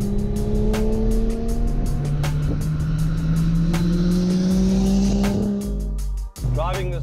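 A Nissan R33 GTR drives and accelerates, its engine note climbing steadily through the gears, loud and close from inside the car, while someone talks over it.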